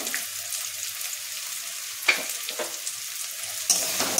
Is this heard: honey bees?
no